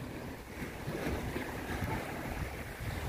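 Waves crash and wash along the shore at a bay, a continuous broadband roar of surf with wind buffeting the microphone, steady and fairly loud with no talking.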